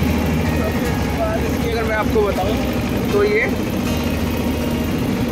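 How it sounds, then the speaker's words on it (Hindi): Eicher 188 four-wheel-drive tractor engine runs at 1500 rpm while cultivating a ratoon sugarcane field, a steady loud diesel drone throughout under someone talking. "आइसर 188 फोर व्हील ड्राइव में ट्रैक्टर है ये, जो कि 1500 आरपीएम पे चल रहा है"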